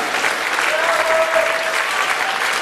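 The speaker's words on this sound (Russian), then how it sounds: "Бурные аплодисменты!" Lively applause from the audience at an author fashion salon show, a loud, continuous wash of many hands clapping close by with no gaps, and a brief sustained tone sounding partway through.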